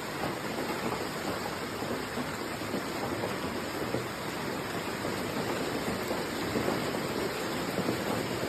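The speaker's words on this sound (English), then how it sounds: "residents of Sichuan, China were suddenly hit by a violent hailstorm" A violent hailstorm pounds down in Sichuan, China, making a dense, steady roar of falling ice that holds at a constant loud level throughout, with no voices heard.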